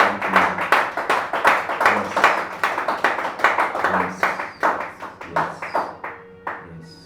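A church congregation claps in rhythm, steady loud beats of many hands that gradually thin and fade toward the end, with faint voices underneath.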